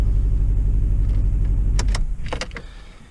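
An idling car engine with a cylinder 4 misfire from a bad ignition coil is switched off: a rough, pulsing idle close up, then a few clicks as the engine dies away.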